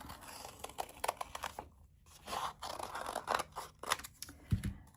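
Scissors snip through folded paper to cut out a shamrock craft shape, a close, steady series of crisp cuts and scrapes with short pauses between strokes.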